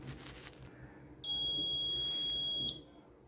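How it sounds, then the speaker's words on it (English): The buzzer of a homemade smoke detector circuit, built with LEDs, transistors and a battery, gives one steady, piercing high-pitched tone lasting about a second and a half before cutting off. "When the smoke is incident on the smoke sensor, the bulb glows and the buzzer sounds."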